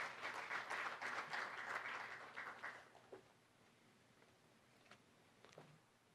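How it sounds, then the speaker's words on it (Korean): Audience applause at a Korean awards ceremony, a dense burst of clapping that fades after about three seconds into quiet room tone with a few scattered claps. "박수로 축하해 주시면 고맙겠습니다"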